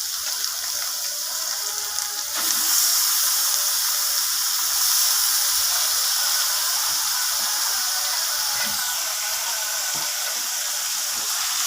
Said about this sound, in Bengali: তো বিট আর গাজরটাকে এইভাবে নাড়াচাড়া করে আমি রান্না করতে থাকবো।